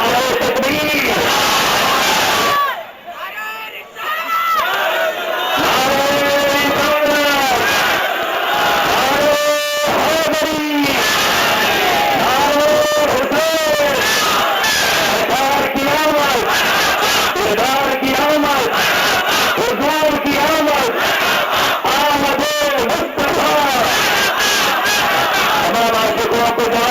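A huge crowd at a Milad-un-Nabi street procession in Hyderabad roars Nara-e-Takbir slogans in loud, continuous call-and-response waves, with a brief dip early on before the chanting surges again.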